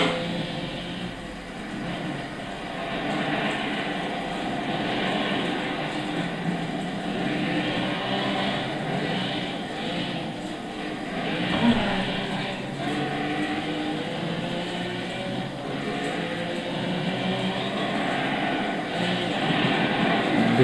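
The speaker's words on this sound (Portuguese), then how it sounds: "Deixei o ronco Ferrari para vocês" 1973 Lancia Stratos 2.4 with a Ferrari-derived V6 in Gran Turismo 6 on a rally dirt stage, engine roaring steadily throughout with shifting revs, no talking.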